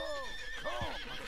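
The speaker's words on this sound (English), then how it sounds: "Keep calming the horse." A horse in Red Dead Redemption 2 on PS4 lets out a short, close whinny with rising and falling pitch, followed by a low snort.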